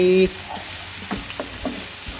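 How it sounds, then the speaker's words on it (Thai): Onions being stir-fried in a pan for a burger recipe, with a soft sizzle under scraping stirs that come in a few close, uneven strokes. "จะผัดหอมใหญ่ก่อนนะฮะ ผัดหอมใหญ่หอมใหญ่หอมใหญ่"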